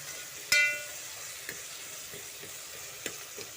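Tomatoes sizzle steadily in a pan for veg pulao, a soft even frying hiss broken by a sharp clatter and a few light scrapes as they are mashed.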